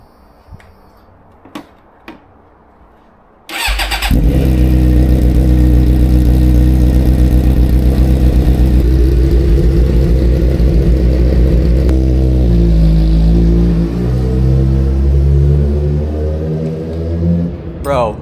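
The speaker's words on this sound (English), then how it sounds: "the bike did not want to start" A Suzuki GSX-R sport motorcycle struggling to start: a few faint clicks and knocks, then the engine abruptly catches into a loud, rough, steady running roar with wavering pitch that continues to the end.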